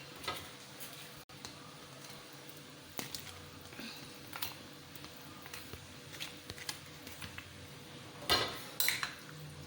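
Chicken marinade being mixed with a spoon in a bowl, with scattered light clinks and taps of the spoon against the bowl, soft and intermittent, a little busier near the end.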